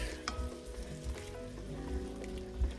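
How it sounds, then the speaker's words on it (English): Peppers, onions and butter fry on a stovetop in a steady, close sizzle with light stirring, and a faint tonal hum runs underneath. "if you put some peppers, onions, and some butter or either some olive oil on the stove"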